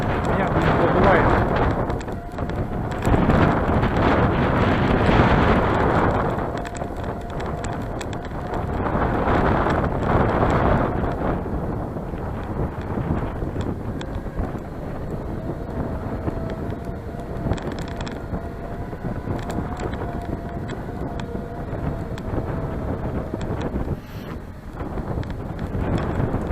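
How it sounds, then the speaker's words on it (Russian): Strong north wind gusts across a lake, roaring in broad surging waves that buffet the microphone throughout, swelling loudest early on and settling into a steady rush; a faint tone drifts underneath. "Опять ветер мощный очень ветер дует."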